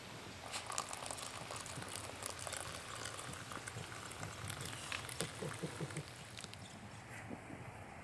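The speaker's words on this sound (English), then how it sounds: "when those little bitty bubbles begin to pop a lot on the bottom" Mountain mud heating with many tiny bubbles popping on the bottom, a dense, irregular crackling patter that stays steady and close throughout, with no voices.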